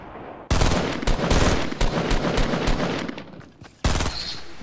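Rapid automatic gunfire rattles in a video game, loud and close: a long sustained burst of machine-gun fire, a short pause, then another burst.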